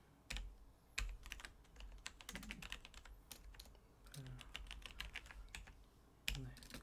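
Someone types on a computer keyboard during a machine learning lesson, producing rapid, irregular, fairly quiet keystrokes in bursts with a few heavier presses.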